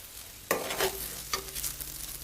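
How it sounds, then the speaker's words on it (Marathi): Semolina sanja, a sweet-and-spicy Maharashtrian dish, is stirred in a pan with a few distinct scraping strokes against the metal over a soft, steady frying hiss, close up and with no talking. "हे अशा प्रकारे आपण हलून घेणार आहोत"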